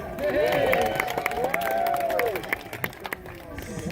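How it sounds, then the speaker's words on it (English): Audience at a Great Lakes timber show clapping and cheering for three log rollers, with a voice talking over the applause and the crowd noise thinning into scattered claps. "How about a nice hand for all three of these guys?"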